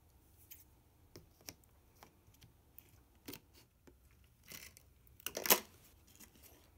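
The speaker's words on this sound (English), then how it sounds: "grab your scissors to cut out this pattern." Quiet, intermittent snips and crisp rustles of scissors cutting out a paper pattern, closer and louder near the end, with no talking.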